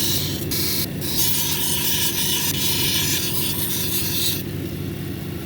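A labradorite cabochon pressed against a spinning 220 grit wheel gives a steady, close, hissing rasp with brief breaks as the stone is lifted off, all over a continuous low motor hum.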